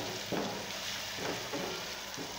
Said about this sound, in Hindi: प्याज और लहसुन ब्राउन हो रहे हैं।